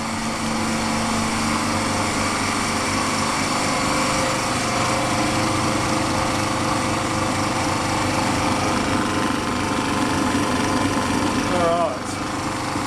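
A handheld blender purees potato, giving a loud, continuous high whine that holds steady for about twelve seconds and then cuts out abruptly.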